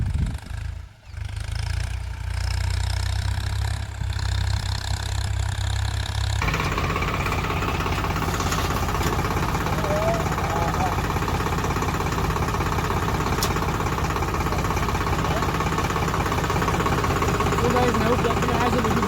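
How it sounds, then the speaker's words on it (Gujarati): A tractor engine on a farm, as ground is readied for sowing millet, idles and runs in a loud, steady low rumble that fills the scene after a brief quieter start, with people talking over it. "ચલો હવે ટ્રેક્ટર હાંકીએ"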